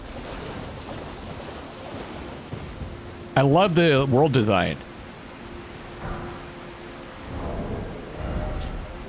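Rain falls steadily in Elden Ring: Shadow of the Erdtree, a soft broadband hiss with a swell toward the end, while someone speaks briefly over it.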